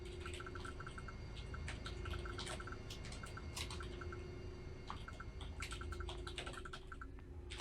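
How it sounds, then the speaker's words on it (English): Someone types on a computer keyboard while playing Star Wars Galaxies, with quiet, fast clicking in irregular bursts over a faint steady hum and no talking. "I am going to go ahead and start typing them out."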